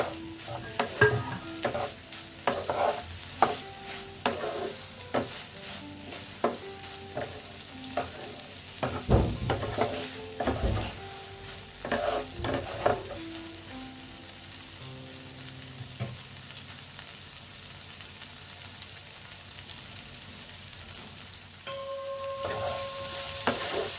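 Soybean chunks, potato and egg frying in a pan as they are stirred, soft sizzling under repeated scrapes and taps of a spatula, close and moderately quiet, with no voices.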